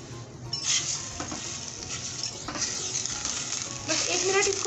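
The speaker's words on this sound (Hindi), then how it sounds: "चिकन को हम तकरीबन 1 मिनट इसके साथ ही फ्राई करेंगे" Chicken frying for shashlik in a hot pan, a dense, steady sizzle with occasional stirring scrapes, close up and continuous for a few seconds.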